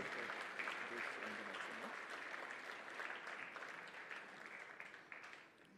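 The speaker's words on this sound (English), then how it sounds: "give a big round of applause to Merck Foundation for the anniversary" An audience at a Merck Foundation anniversary gathering applauds in a sustained, even wash of clapping that stays strong before thinning slightly toward the end.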